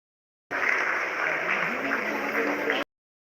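Steady applause fills the mission control room during the Chandrayaan-3 lunar landing, a dense, even spell of clapping that starts and stops abruptly.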